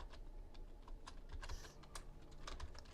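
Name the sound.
typing a formula on a computer keyboard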